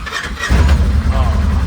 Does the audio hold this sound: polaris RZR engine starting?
yes